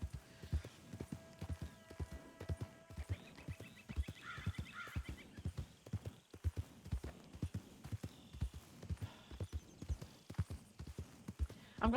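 Horse hooves clip-clopping at a steady walking rhythm in the Western-themed video game WildRP, a long regular run of close, dull thuds with faint game ambience and occasional distant honking in the background.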